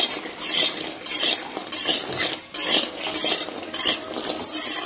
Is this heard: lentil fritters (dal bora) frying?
yes